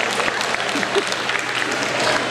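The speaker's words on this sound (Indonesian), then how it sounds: "Hai, tepuk tangan dulu Bapak Ibu sekalian." Audience at a Chinese wedding reception game breaks into steady applause, a dense wash of clapping filling the room for a couple of seconds with faint crowd murmur beneath.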